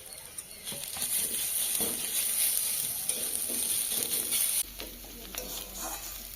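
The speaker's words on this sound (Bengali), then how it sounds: "এবার আদা রসুন বাটাটা দিয়ে দেবো" Ginger-garlic paste and spices fry in a pan for an egg pepper fry, giving a continuous close sizzle with faint stirring scrapes throughout, and no voices.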